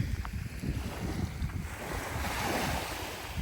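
Waves wash onto Nuddy Beach, a quiet, uncrowded beach near Cairns in northern Australia, a steady broadband roar of surf with wind buffeting the microphone throughout, no voices.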